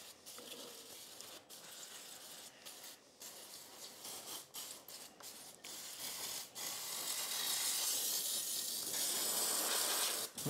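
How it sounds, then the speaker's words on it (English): Spray can gives a Kawasaki KD175 motorcycle engine a light spritzing: intermittent faint hissing bursts broken by small mechanical clicks, then a longer, steadier spray hiss toward the end, close and quiet. "Let's give this a light spritzing to kind of make this a little less messy."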